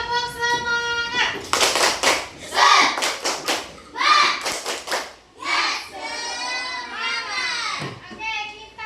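Sixth-grade elementary pupils in a classroom perform a rhythmic group clapping cheer, bursts of sharp claps in patterned sequences mixed with children's chanting voices and a teacher talking over them.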